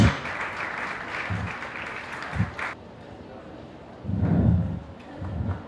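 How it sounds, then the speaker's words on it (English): Applause from an audience honoring video contest winners at a screening and panel event, a burst of clapping that tapers off, with bits of speech in between. "A big round of applause for Don Akhbar, Dostan Elahi, Kamran Shahnaw"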